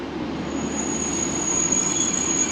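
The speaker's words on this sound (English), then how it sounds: "Oh look, nice little train there." A small train rolls past at Universal Studios theme park in Bedford, a steady continuous rumble of wheels on track with a faint high squeal running through, close and even in loudness throughout.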